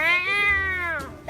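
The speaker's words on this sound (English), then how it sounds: "That's how cats get when they get angry" An angry cat lets out one loud, drawn-out yowl, close by, for about a second, then falls quiet.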